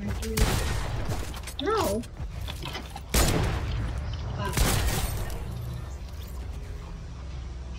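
Sniper rifle shots from a video game crack out a few times, three sharp booming reports spread across the stretch over continuous game noise, while players talk briefly.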